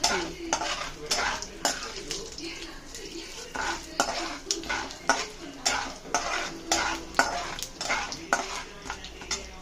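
Tempering seeds sizzle and crackle in hot oil, frying until reddish, while a spoon scrapes and stirs the pan in a steady, repeating rhythm, close and fairly loud.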